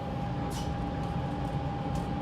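An Amtrak San Joaquin train departing Bakersfield Station: a constant rumbling drone with a steady hum from the moving train car, broken by a few short hissing bursts of air.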